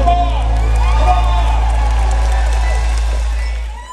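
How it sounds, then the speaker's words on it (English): A Las Vegas concert crowd at a show cheers, whoops and claps loudly. Shouts and screams ride over a steady roar of the audience, with a deep rumble underneath, before the noise tails off at the end. "Give yourself an applause."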